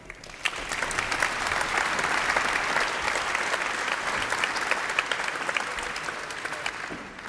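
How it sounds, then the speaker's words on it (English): Concert audience applauding a performer at a community music show: steady, dense clapping from a large crowd, loud and sustained for about seven seconds with no voices over it. "Please give a round of applause to Michael."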